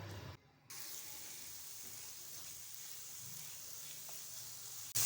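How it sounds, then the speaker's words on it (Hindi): Khaskhas (poppy seed) paste roasting in desi ghee on a low flame, giving a steady, quiet sizzle and hiss that runs throughout with a brief dip near the start. "साथ में ऐड कर देंगे 1 चम्मच देसी घी का और लो फ्लेम पे इसको रोस्ट करेंगे।"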